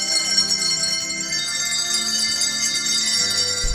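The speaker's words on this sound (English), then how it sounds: "It's the Brashear Bell Choir." A pre-kindergarten handbell choir at an elementary school plays sustained, ringing bell tones that overlap into a steady, bright shimmer of moderate loudness, with no talking.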